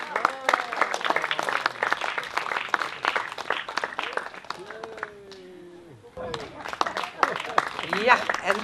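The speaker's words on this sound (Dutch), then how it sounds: "Uw applaus voor deze abseilers." Crowd clapping for abseilers at an outdoor anniversary event, moderately loud and continuous, interrupted by a brief lull before resuming, with people talking and calling out over it.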